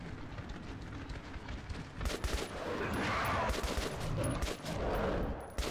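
Gunfire rattles through Metro 2033 Redux in dense, sustained bursts over a rumbling game backdrop. The firing runs loud and continuous for several seconds, with no voices over it.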